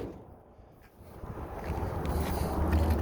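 A 1979 Ford Bronco with an LS swap (L92 V8, 6L80e automatic) drives on the road. Low engine rumble and road noise build steadily from quiet to a louder sustained drone, heard from inside.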